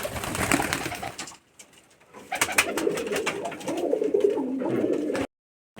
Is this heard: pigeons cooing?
yes